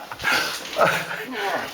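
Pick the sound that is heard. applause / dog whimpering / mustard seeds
dog whimpering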